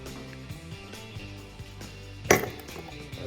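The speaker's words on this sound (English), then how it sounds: "I'm just giving this an extra shake" A cocktail, a Zombie, is shaken by hand in a shaker, giving a brief loud burst of rattling near the end, with quieter background music and clatter before it.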